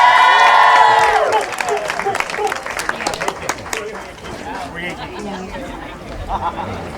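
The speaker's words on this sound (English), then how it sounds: "Big round of applause for the newlyweds." Wedding guests applauding and cheering the newlyweds at a reception, a crowd of clapping and chatter rising after a brief musical tone at the start, lively and sustained with voices mixed in throughout.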